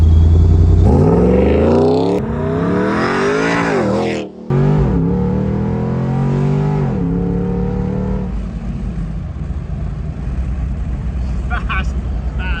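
A supercharged Jeep SRT8 with the 6.1 engine launching from 0 to 60, a loud close engine roar climbing through rising gear sweeps with a brief dip at a shift, settling into a steady drone.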